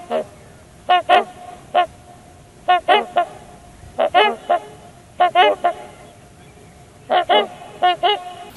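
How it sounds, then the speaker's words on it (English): Swans on a lake give loud honking calls in short paired bursts, repeated at irregular intervals over several seconds, fairly close with quiet surroundings between calls. "there's a couple swans out here on the lake with us. They're actually being quite vocal right now."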